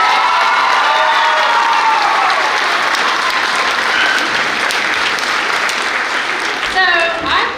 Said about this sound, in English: I think that deserves a second round of applause.